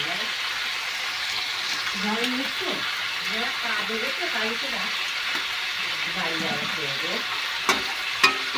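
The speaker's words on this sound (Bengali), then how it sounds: "এবার একটু নেড়ে নেবো" Food sizzles steadily in a pan with Kashmiri chili powder while being stirred, with scraping strokes through a constant frying hiss and a person talking over it.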